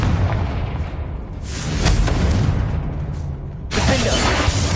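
Confringo fire spell blasts in Hogwarts Legacy on PS5, a loud burst of crackling explosions with booming impacts, continuing as a dense roar and flaring again sharply near the end.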